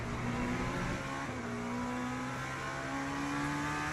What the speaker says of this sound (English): This car is actually quite loud.